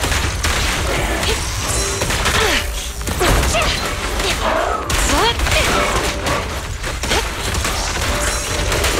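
Gunfire in the action game Zenless Zone Zero, a dense ongoing fusillade of shots and impacts layered with busy combat effects and a voice, loud and continuous throughout.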